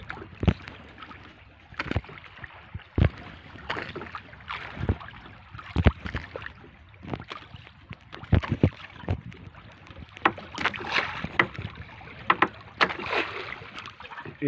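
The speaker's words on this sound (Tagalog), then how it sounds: "Yung dalawang umuwi na dalawang bangka" Two small fishing boats come back from the open sea, with irregular knocks, splashes and water sloshing against the hulls close by, alongside light wind and no voices.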